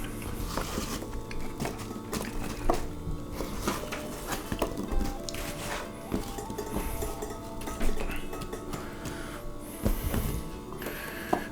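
Cut apple pieces tumbling into a pan in a home kitchen, a busy run of clattering knocks and clinks of fruit against metal, close and steady over a low background hum.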